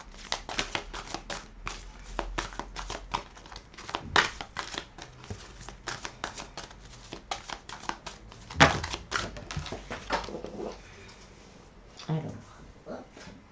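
A deck of Chakra Heart oracle cards is shuffled and drawn by hand, giving a dense run of rapid, close papery clicks and riffles with a few louder snaps, then softer card handling toward the end.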